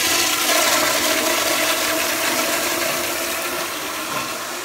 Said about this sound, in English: press that handle and flush the toilet